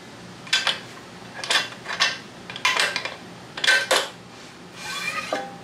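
Metal bolts are unscrewed and slid out of a manual jack plate on a boat, several separate close metallic scrapes and clinks coming at a steady, uneven pace, with no talking.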